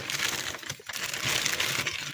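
Close crinkling and rustling of plastic as a bag is handled, a steady stream of crackles with a brief pause midway.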